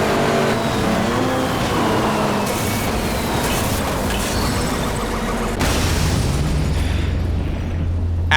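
An off-road car in the racing game Motorstorm Monument Valley blows up with a loud, sustained roaring blast over constant engine rumble, followed by a lower engine drone as the race continues.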